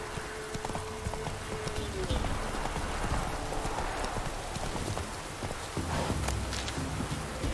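Horse hooves clip-clop steadily at a walking pace in the video game Witcher 3, a continuous rhythmic clatter with voices and other game sounds around it.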